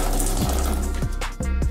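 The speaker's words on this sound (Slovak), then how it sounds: "To pustíš vody do kýba." Water runs steadily from a tap into a bucket in a bathroom in the Philippines, a continuous close, loud rushing stream with a few faint knocks.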